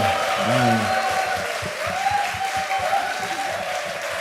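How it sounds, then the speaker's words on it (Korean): A studio audience at a Korean talk show claps in welcome, a continuous patter of applause running under a voice and a short sung or drawn-out vocal line. "여러분 다시 한번 환영의 박수 부탁드리겠습니다"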